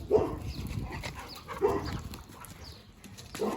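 Samara, a Dogo Argentino, barks by a backyard fence on a spring day, three gruff barks spaced about a second and a half apart, fairly close and moderately loud over outdoor background noise.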